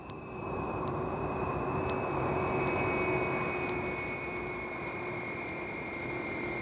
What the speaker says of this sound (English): That's airplanes who take off about 150 yards from here in the public airport in Monterey Peninsula.